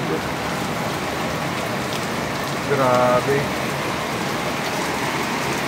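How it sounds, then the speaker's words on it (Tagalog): Heavy night rain pours in a dense, constant hiss, heard from inside a house, with a person briefly speaking over the downpour midway through. "Sobrang lakas ng ulan."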